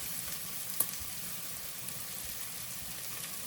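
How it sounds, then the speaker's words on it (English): Carrots and other vegetables sizzle in a hot stir-fry pan, a steady close crackle of frying with a single sharp tick partway through. "we'll add in some of our veggies"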